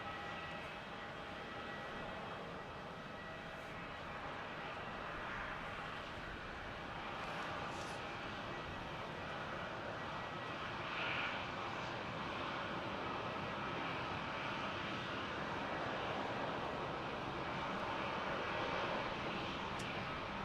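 An airliner takes off from runway 16 at Melbourne Airport, a steady distant jet engine roar with broadband rumble that swells slightly as it rolls, heard faintly and without talk.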